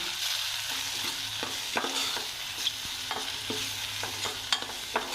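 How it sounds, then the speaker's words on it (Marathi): Coriander and cumin powder are stirred in a frying pan while prawn biryani masala cooks, giving a continuous close sizzle broken by repeated scraping strokes of a spoon on the pan, with no voices. "धणा पावडर घेणार आहोत थोडी जिरा पावडर घेणार आहोत आणि याला मस्तपैकी आपण आता मिक्स करून घेऊया"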